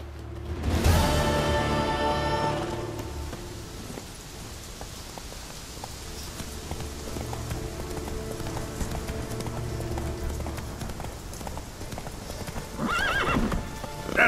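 Roach, the horse in The Witcher 3: Wild Hunt, gives a loud neigh near the start, then trots on with a continuous rhythm of hoof clops amid rain and game ambience, with a brief vocal outburst near the end.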